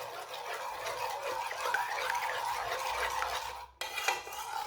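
An egg and a spoonful of oil being stirred into dough ingredients in a bowl for bread samosas, making a continuous close scraping and swishing of utensil against the bowl, with no talk.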